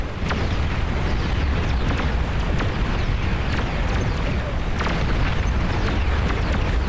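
Continuous heavy booming from bombing runs in a video game, with explosions layered into a dense, loud roar that never lets up for seven seconds.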